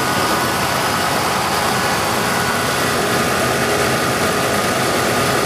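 A 1989 Lincoln Town Car engine runs at a steady idle during a fuel pump pressure test, a continuous close, even rumble with a constant hum and no voices over it.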